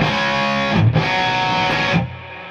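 Electric guitar through the classic channel of a BluGuitar AMP1 amp, played as dense distorted chords that ring out loud for about two seconds with a brief dip partway, then fade into a quieter tail.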